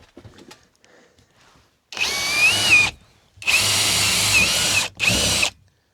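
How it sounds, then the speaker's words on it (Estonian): A power drill boring holes through a wall for fresh-air vents, three loud whining bursts of about a second each, separated by short pauses, close up with faint handling noise before the first. "puurime siis mingid augud läbi"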